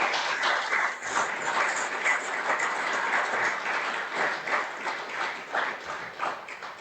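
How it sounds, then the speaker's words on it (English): Audience at a breakfast gathering gives a sustained round of applause, a dense, even wash of clapping that holds steady throughout. "Could we give Ramon a round of applause?"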